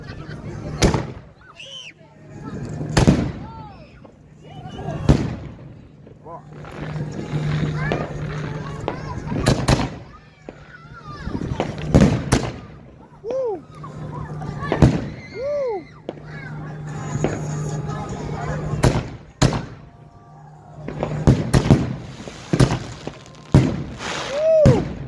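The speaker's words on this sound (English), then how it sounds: "Thriller shells by Unicorn." Thriller canister shell fireworks by Unicorn Fireworks launch and burst outdoors in a sequence of loud sharp booms and crackles, with whistling rises between blasts and people talking and shouting over the show.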